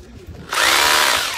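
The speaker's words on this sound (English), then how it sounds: "And I'm going to drill holes and make this secure." A power drill starts up abruptly and whines steadily as it bores a hole during a seafront building upgrade, loud and close after a brief quiet moment.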